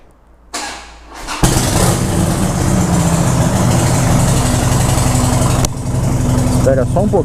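A Harley motorcycle is cranked over, catches and fires up, then settles into a loud, lumpy, rhythmic idle close by, with a brief dip near the end.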